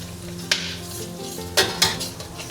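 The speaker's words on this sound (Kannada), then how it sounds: "ನೋಡಿ ಲವಂಗ ಹೇಗೆ ಚಟಪಟ ಅಂತ ಇದೆ" Cloves crackling in hot ghee in a pan, a steady low sizzle broken by a few sharp pops and spoon-on-pan clinks, close and fairly quiet with no talking.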